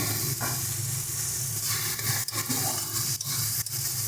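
Water poured into a pan of tomato and fish curry gives a steady, loud hiss and rush that fills the whole span, with slight dips and small splashes, and no voices.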